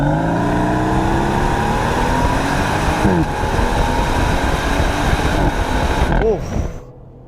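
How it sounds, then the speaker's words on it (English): A 2022 BMW M760i V12 pulls hard under acceleration, a loud continuous engine roar with rising harmonics that builds steadily for about six seconds before cutting off abruptly. "Damn, that V12 sounds so good."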